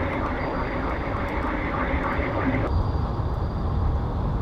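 Submarine propeller cavitation in the Cold Waters naval combat game: a steady, loud rumbling wash of broadband noise that holds throughout, its upper hiss dropping away partway through, with faint game sounds underneath.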